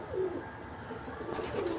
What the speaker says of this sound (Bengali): আমার কিছু শখের কবুতর আপনাদের সাথে শেয়ার করলাম আপনাদের দেখানোর জন্য।